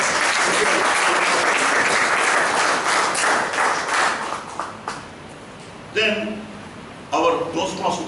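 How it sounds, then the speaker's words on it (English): A Toastmasters meeting audience applauds a speaker, dense clapping that fades out after about five seconds, followed by a couple of brief bursts of voices or noise. "Let's put a round of applause for our great speaker"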